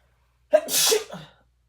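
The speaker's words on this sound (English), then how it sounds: "I think I have to sneeze" A single loud, close sneeze bursts out after a short silence, a quick intake followed by a breathy explosive burst that trails off.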